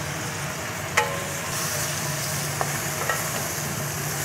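Cured pork and chayote stir-fried in a pan give a steady, close sizzle, broken by a few sharp spatula clicks against the pan. Nobody speaks.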